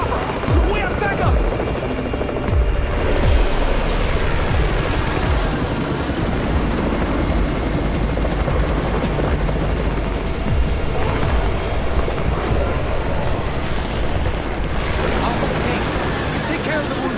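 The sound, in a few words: helicopter arriving in video game Undawn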